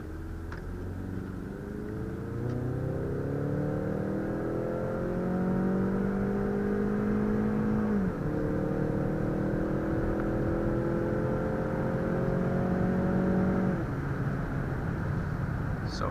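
A 2016 Ford Mustang EcoBoost accelerating hard, its turbocharged four-cylinder engine rising steadily in pitch through two gears with a brief dip at the shift, loud and close from inside the car, with no talk.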